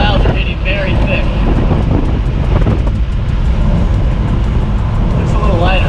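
A 1994 Dodge Viper drives fast in the rain, its engine roar blending into loud, constant wind and road spray noise that stays dense and unbroken throughout.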